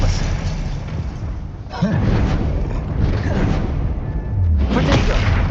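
An Expelliarmus spell is cast in Hogwarts Legacy, with two whooshing bursts a few seconds apart rising out of continuous rumbling game sound.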